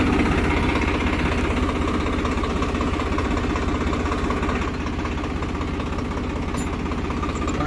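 A Swaraj 744 FE four-wheel-drive tractor engine runs in load gear, giving a steady, close diesel chugging with a fast even pulse and constant vibration throughout.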